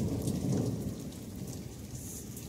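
Steady heavy rain pours down outdoors during a storm, with a dense hiss and low thunder rumbling under it, close and continuous throughout.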